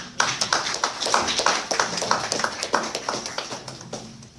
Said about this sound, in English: If you all would receive her with a round of applause.